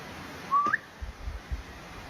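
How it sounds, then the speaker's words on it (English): A person gives a single short, rising whistle outdoors in the woods, clear and fairly near, followed by a few soft thumps and a quiet background. "I'm gonna do a whistle and see if we hear anything."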